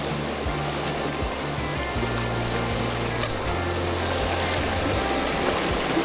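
Fast-flowing river water rushes in a steady, broadband wash on a wild trout stream, loud and continuous throughout, with a brief brighter splash or hiss midway and low rumbling underneath.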